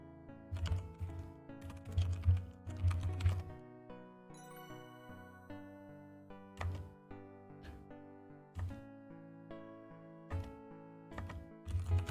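Typing on a keyboard in The Crimson Diamond video game, a run of clicky keystrokes in quick bursts with pauses, plus chiming, tinkling game tones ringing over the taps.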